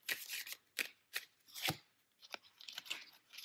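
Tarot cards being shuffled in a Sagittarius reading, heard as a string of close, crisp riffling bursts, each a short papery flutter separated by brief pauses, with no talking.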